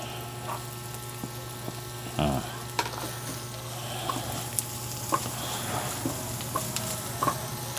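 Fresh ginger sizzles as it hits a hot pan while laing is being cooked, giving a steady frying hiss with scattered pops and stirring clicks over a low electrical hum.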